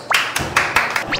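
Sparse clapping from a small crowd gathered at night at a Taiwanese temple festival before Beigang Chaotian Temple, a handful of close, sharp claps scattered irregularly over a moment.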